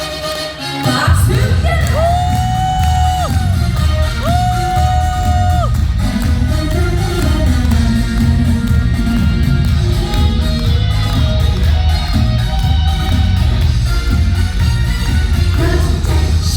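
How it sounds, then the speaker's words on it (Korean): Audience clapping and cheering at a live Korean music show concert in Cheongju, a loud, steady crowd roar blended with the band's music throughout. "다 같이 박수!"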